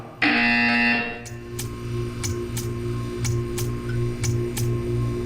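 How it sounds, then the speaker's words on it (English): A loud, harsh buzzer blares for about a second in Portal 2, then a steady ticking continues over a low electronic hum. "You will hear a buzzer."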